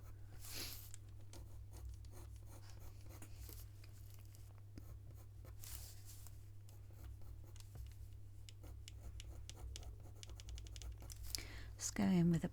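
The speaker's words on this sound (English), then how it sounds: "you can go over the top of it and colour pencil again." Colour pencil scratching over a painted layer on paper while a realistic fox eye is drawn: soft, steady rubbing strokes, close and quiet, over a constant low hum.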